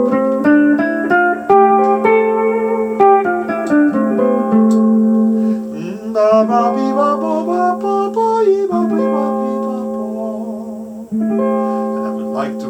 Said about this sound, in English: And what is the scale? It's Aeolian.